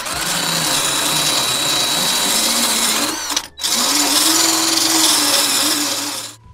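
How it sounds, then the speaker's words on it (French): A wire brush spins against metal with a steady, harsh whirring scrape that runs for about three seconds, cuts out briefly, then resumes at full loudness before winding down. "un coup de brosse métallique"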